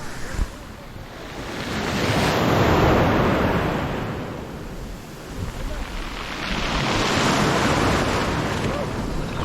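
Ocean waves surge and break in two long swells at a Mediterranean cove, with steady wind rushing across the microphone in between.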